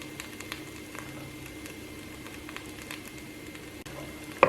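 Onion and tomato sauté in a pan with turmeric and Kashmiri chili powder for egg biryani, a soft steady sizzle and patter running throughout with no voices.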